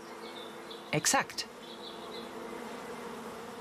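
Honeybees, workers alongside larger drones, buzz at a hive on a beekeeper's site. A faint, steady hum runs throughout, briefly covered by a short spoken word near the middle.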